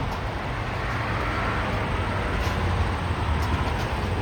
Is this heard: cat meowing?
no